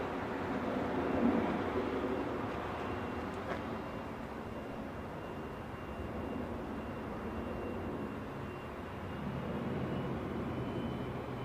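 A Lufthansa Airbus A320 inbound from Frankfurt to London Heathrow airport on a hazy day gives a steady, broad jet roar that swells slightly near the start and again toward the end, heard from a distance with no talking.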